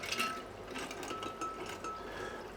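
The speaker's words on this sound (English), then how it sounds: "My diluted coffee, and just pour it in there." Diluted coffee poured into a Revomax vacuum flask bottle over ice, a steady, faint trickling and filling of liquid lasting a couple of seconds with no talking.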